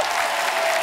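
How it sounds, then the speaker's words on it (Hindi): Loud, steady applause from a large studio audience at a TV comedy show, dense clapping filling the whole moment with no voices on top. "पहले मैं चाहूंगा जोरदार तालियां"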